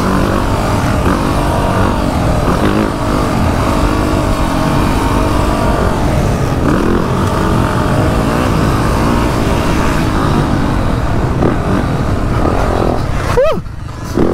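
Yamaha YZ450F dirt bike riding through deep motocross ruts, a loud, close engine roar that holds steady and rises and falls with throttle changes, ending in a brief rising rev.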